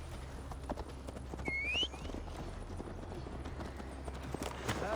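Horse hooves galloping under a rider in Assassin's Creed Valhalla: a rapid, steady clip-clop rhythm held for several seconds, with a brief whinny-like call partway through and faint ambient noise beneath.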